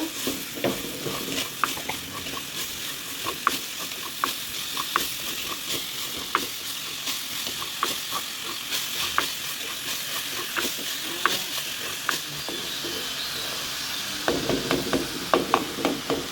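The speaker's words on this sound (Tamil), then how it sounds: "அதையும் ஒருக்கா வதக்கி போட்டு" Cutlet filling being sautéed and stirred in a hot pan, a steady loud sizzle and frying hiss with frequent sharp scrapes and taps of a spoon against the pan throughout.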